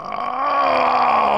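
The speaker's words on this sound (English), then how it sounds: "Oh, and here comes that yawn." A person yawning up close: one drawn-out, voiced, groan-like exhalation lasting about a second and a half, steady and fairly loud, with no speech.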